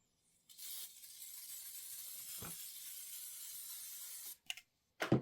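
A spray bottle gives a few quick spritzes while quilting gear is prepared, one long soft hiss followed by two short bursts, close and quiet with no talking.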